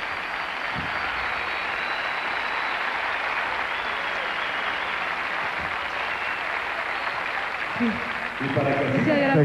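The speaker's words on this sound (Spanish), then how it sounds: "Disfruta de este aplauso que te da el Poliedro de Caracas." An audience at the Poliedro de Caracas applauds during the Miss Venezuela gala, broad sustained clapping that fills the hall, with a voice rising over it near the end.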